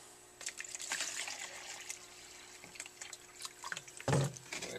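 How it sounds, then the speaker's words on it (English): Water is poured and splashed into a soil block mix of damp, mucky potting soil, a close, uneven trickling and dribbling with a heavier splash near the end. "it's about ready for a little bit more water"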